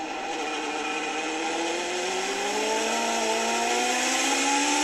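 A high-pitched British Superlite Championship race car engine wails steadily on track, its pitch climbing gradually as the revs build, loud and continuous throughout.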